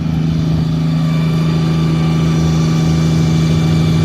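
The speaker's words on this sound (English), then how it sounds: "that's the generator that's whining" A loud, steady engine drone from a lowered 1954 car with a constant high-pitched whine from its generator running through it, unchanging throughout.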